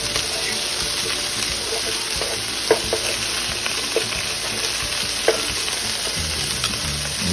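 Potatoes O'Brien with sausage sizzle steadily in a hot pan, a loud constant frying hiss with a few scraping stirs of a utensil through it, close by.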